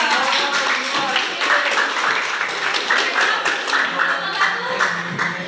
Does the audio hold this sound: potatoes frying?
no